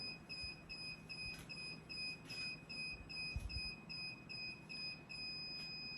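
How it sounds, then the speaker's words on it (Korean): A steady high-pitched electronic tone from an Arduino buzzer on an electric kick scooter, sounding because the helmet is not connected, pulses at regular intervals over a low hum, with a brief thump partway through; no one speaks. "헬멧이랑 연동되지 않으면 부저가 일정 간격으로 울립니다"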